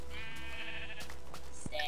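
Blocky Minecraft sheep bleating once, a wavering nasal baa held for about a second, followed by a few short game clicks and soft background noise.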